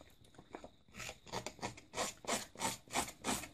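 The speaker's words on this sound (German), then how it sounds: "habe ich einfach die Schere genommen und an den Kanten mit der scharfen Seite die Kanten so aufgeraut" A sharp scissors blade scraped along the edges of a paper card to roughen them, giving a series of quick, dry rasping strokes in a steady rhythm, close and faint in a quiet room.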